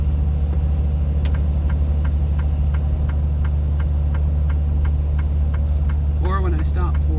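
Truck engine running while driving, a steady low drone with a regular ticking pattern, loud and continuous, with someone briefly talking near the end.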